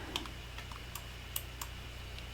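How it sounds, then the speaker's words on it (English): Keyboard typing during a Dragon Age: Origins gaming session, with quiet, irregular key clicks spread across the stretch over a steady low electrical hum, some taps sharper than others. "I have a lot of stuff on my wrist, so that might end up making a lot of noise on my keyboard"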